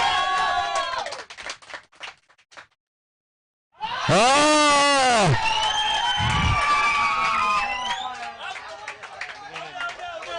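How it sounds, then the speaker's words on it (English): Crowd at a cricket tournament final between Karnataka and Tamil Nadu erupts in loud cheers and whoops after a short lull, with shouting voices and an excited exclamation mixed in, staying loud before tapering slightly. "Let's cheer for your Karnataka bowler."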